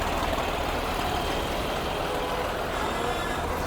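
Steady low rumble of several idling diesel tractor engines with trolleys, queued in a traffic jam on the way to Hola Mohalla at Anandpur Sahib, a continuous drone with broadband noise throughout, no clear voices.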